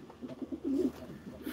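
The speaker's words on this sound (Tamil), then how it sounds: "இதெல்லாம் நம்ம வீட்டு புறாங்க" Domestic pigeons coo close by in a series of soft, throaty, rhythmic low calls, several rounds in a row with no talking.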